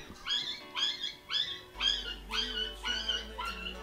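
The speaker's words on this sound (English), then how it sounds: "there's some dog getting abused outside my door" Outside a window, a dog whimpers and yelps in a run of about seven high, strained cries, fairly clear and evenly spaced, with a low hum beneath.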